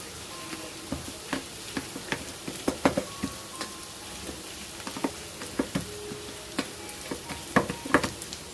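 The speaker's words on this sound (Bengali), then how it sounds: "নেড়ে চেড়ে হালকা করে নরম করে নেব পেঁয়াজটাকে" Onions stirred and softening in a frying pan for potato parathas, with a steady low sizzle and repeated sharp scrapes and clinks of a spatula against the pan, fairly close and moderately quiet.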